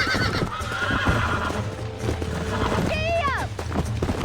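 In the video game Red Dead Redemption, a horse gives a sharp, rising whinny amid steady clip-clop of hooves, with a voice speaking over the scene.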